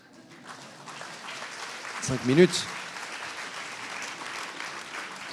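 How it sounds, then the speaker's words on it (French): Applause from a conference audience rolls on steadily and moderately loud throughout, with a voice speaking briefly over it. "Je crois que vous voulez applaudir de nouveau"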